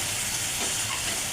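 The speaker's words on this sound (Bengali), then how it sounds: "এই দেখো এদিকে এখন ঘুগনির মশলা কষা হচ্ছে, ঘুগনি হবে।" Ghugni spice paste frying in a pan, cooked outdoors in the evening, gives a steady close sizzling hiss throughout, with no talk.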